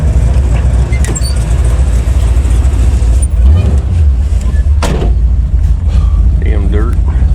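1980 Chevrolet Malibu with a big-block engine, a dirty barn find, driving slowly with a loud, deep rumbling exhaust heard from inside, steady throughout with a voice speaking briefly.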